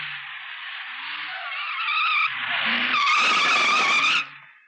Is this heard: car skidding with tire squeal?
yes